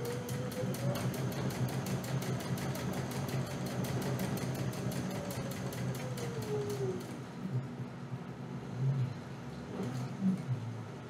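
Sewing machine stitching a backpack panel, a rapid even needle rattle running steadily for about seven seconds before stopping, leaving quieter handling noises and faint movement close by.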